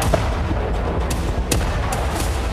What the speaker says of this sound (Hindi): हमा में कई धमाके हुए हैं।